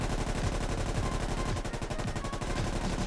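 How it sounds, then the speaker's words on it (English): In the tactical shooter game Squad, machine guns fire in sustained rapid bursts, producing loud, dense automatic gunfire that rattles on without pause and carries no voices. "Now we're moving on to 2 machine gunners. Fire when ready."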